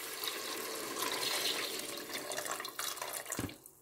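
Meat stock poured steadily into a pot of caramelized onions for French onion soup, a continuous close splashing rush that tapers off with a final clunk at the end.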